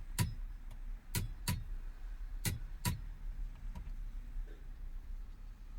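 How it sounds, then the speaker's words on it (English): A torque wrench clicks as it tightens a steering wheel bolt on a 2004 Chrysler Crossfire, giving five sharp ratchet clicks spaced irregularly over low background noise. "And then with your torque wrench, we're going to tighten down to"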